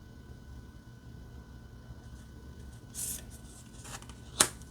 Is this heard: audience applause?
no